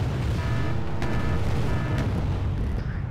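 Explosions in a naval battle in the Wargame Red Dragon video game: a loud, continuous rumbling roar broken by sharper blasts about every second.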